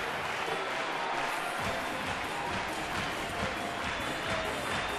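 A baseball stadium crowd of about 49,000 roars and applauds continuously, a broad, distant-sounding wash of cheering with no single voice standing out.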